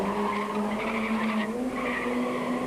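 A Golf GTI rally car skids through a street stage, the engine note holding and rising while tires squeal continuously, loud and close, with no talking.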